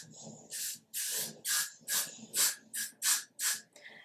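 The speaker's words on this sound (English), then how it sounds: "I'm going to take my freeze spray and I'm going to spray" Freeze hair spray pumped onto a lace frontal wig, about eight short, sharp hissing bursts in a steady rhythm, close up and crisp, with quiet gaps between each spritz.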